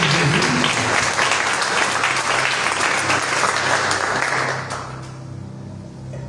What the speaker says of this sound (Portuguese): Dê a Ele as suas palmas